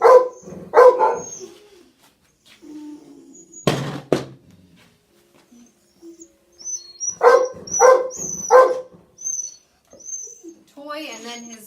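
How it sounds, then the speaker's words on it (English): A dog barks in short bursts in a room while a puppy's bed is cleaned after an accident, the barks arriving in clusters near and fairly loud, with brief whimpers and household handling noises between. "excuse the barking"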